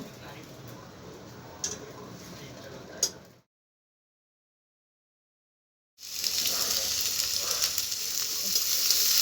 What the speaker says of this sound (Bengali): আলু ভাজা হচ্ছে আলুর সাথে পেঁয়াজ কষা হয়ে গেছে